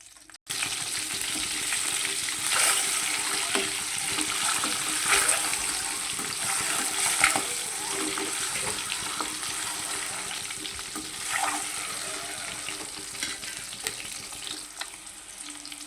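Eggs frying in a pan for a spicy egg masala fry, a steady close sizzle with scattered crackles and pops throughout, no voices.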